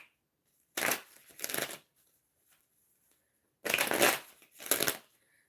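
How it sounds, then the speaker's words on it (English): Tarot cards being shuffled in two separate bursts, each a pair of quick riffling rushes, close and crisp against near silence between them. "Let's get a regular shuffle in."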